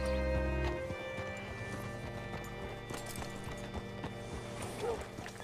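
Hooves clip-clop at a walking pace on hard ground, close by, with a low rumble at the start and some background tones, in the video game Red Dead Redemption 2.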